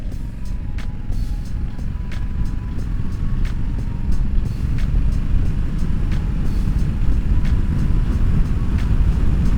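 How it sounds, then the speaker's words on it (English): A 2023 Honda African Twin 1000cc motorcycle being ridden, its engine and wind noise a steady, loud low roar throughout, with small clicks and rattles over it. "1000cc bike. And I believe this is the 2023 African Twin."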